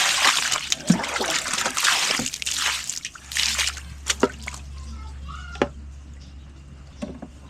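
Fresh water sloshes and trickles outdoors, with irregular splashes and drips over a low steady hum. The splashes come in bursts, then fade to scattered drops.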